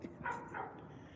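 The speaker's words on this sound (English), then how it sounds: "Why are y'all barking at that cat?" Dogs bark at a cat sitting nearby, a couple of short barks rising over a constant low background murmur, fairly quiet and close.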